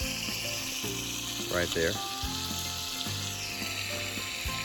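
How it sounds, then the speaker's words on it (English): Bacon sizzles and crackles steadily in a pan, a loud continuous hiss, with someone speaking briefly over it. "I don't know if you can hear me over the amazing sound of bacon sizzling."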